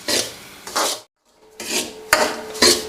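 A spoon stirs semolina as it slowly browns in a hot wok for panjiri, giving loud, close scraping strokes in a steady rhythm, with one brief pause partway through.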